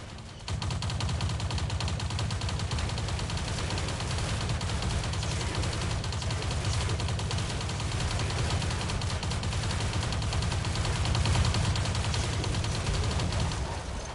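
A BMP-2 infantry fighting vehicle in a video game fires its weapons in a continuous loud, dense barrage that runs almost unbroken for the whole stretch, heavy in the low end.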